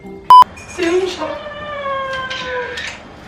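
A house cat meows in a bathroom: a drawn-out tonal call rises then holds steady for a couple of seconds, moderately close, just after a brief sharp beep.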